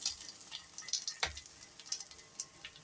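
A vegetable bread omelette fries in a pan on low heat, giving soft, faint sizzling with small scattered crackles and pops.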